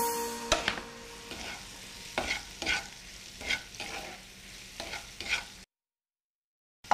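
Chicken pilaf being quickly mixed with pepper in a pan, a series of rhythmic scraping strokes of a utensil against the pan over a faint background, ending in silence.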